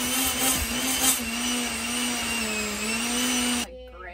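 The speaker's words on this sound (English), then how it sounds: "My blender doesn't sound great because it's getting kind of old." An old kitchen blender running on a smoothie-like mix of sawdust and wood chips for mushroom growing, a steady whining motor hum with a rough rattling edge that cuts off abruptly near the end.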